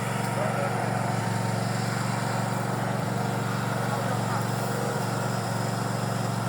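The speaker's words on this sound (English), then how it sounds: "Pulling the last drill stem out." A well drilling rig runs as it pulls the last two-metre drill stem from the borehole, its motor holding a steady, loud droning hum throughout with faint clanks and a voice talking over it.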